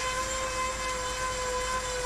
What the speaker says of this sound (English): I apologize for the noise that my trainer makes.